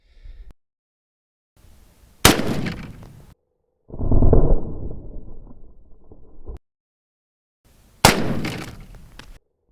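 .223 Remington rifle shots into a gel block with full metal jacket, soft point and hollow point rounds: sharp, loud cracks spaced seconds apart, with a rumbling, reverberant disturbance between them, all heard outdoors without speech.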